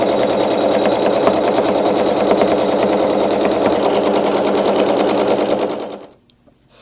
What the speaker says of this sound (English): the first step is to sew a placement stitch so that we know where to put our fabric and our wool